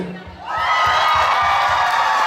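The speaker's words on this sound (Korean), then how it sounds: "박수" A concert crowd at a stage show celebrating the AOMG two-year anniversary erupts in loud cheering and whooping that swells and holds steady, with rhythmic thumping music underneath.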